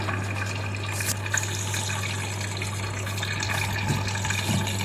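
Water falls and splashes steadily inside an old air cooler under restoration, a continuous rain-like patter over a low mechanical hum, close and even throughout.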